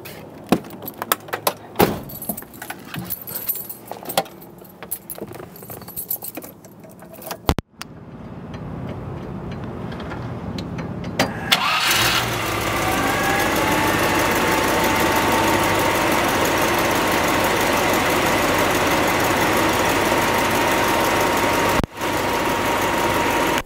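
A 1984 Land Rover Defender 110 in green rumbles for several seconds with clicks and rattles from keys, then the engine cranks and fires near 11 seconds and settles into a steady, close, loud idle with no talking.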